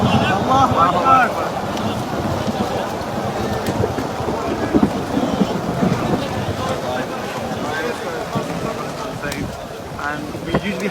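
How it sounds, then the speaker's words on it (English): Strong wind and rain in a storm on the plain of Mount Arafat, a constant roar with gusts battering the microphone. Voices can be heard under it the whole way through. "it's really windy and there's some lightning there as well"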